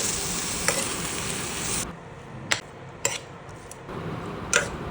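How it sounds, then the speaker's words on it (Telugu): Brinjal pieces fry in a pan, a steady sizzle for the first two seconds, then a quieter bed broken by several sharp scrapes and clinks of a spoon stirring against the pan. "వేసుకొని మొత్తం అంతా ఒకసారి ఫ్రై చేస్తున్నాము ఇవి కొంచెం వేగనివ్వాలి"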